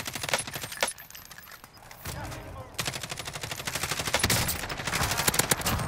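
Gunfire in the video game Warzone: rapid automatic bursts and single shots crackle repeatedly across the scene, some loud and close, others more distant, over a busy game ambience.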